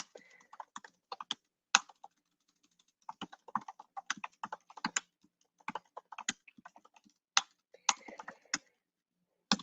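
Fingers tap on a computer keyboard in irregular, quiet clusters of crisp key clicks, with brief gaps and no voices.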